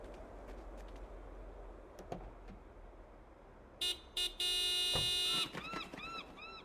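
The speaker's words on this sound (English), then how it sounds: "Do me a favor and honk the horn." A car horn in a Broken Sword 5 adventure game blares in short bursts, two quick toots followed by a longer sustained honk, loud and close after a few faint knocks.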